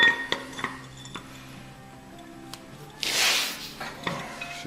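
A metal bolt and lock washer are handled during the bolt-up of a Lincoln SAE 300 welder's armature to its flywheel, producing a few sharp, close clinks and taps with a brief rustling scrape between them and no speech.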